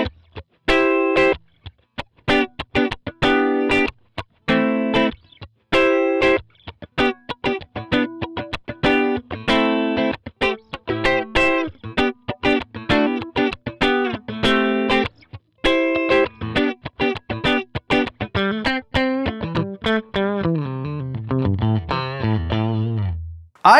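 Electric guitar played through a Line 6 Helix Retro Reel tape simulator set to 15 inches per second, with rhythmic distorted strummed chords in choppy bursts, then a sustained bending phrase that slides down at the end.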